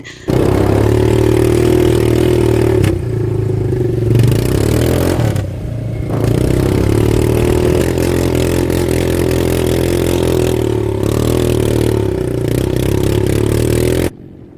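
Motorcycle engine running loud and steady throughout a ride, droning with rising and falling revs and brief dips, with some rattling clatter underneath and no talk.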